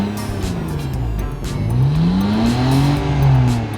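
A BMW E60 5 Series engine revs up loud and close, its pitch sweeping upward through a climbing run toward the redline, heard on its own without talk.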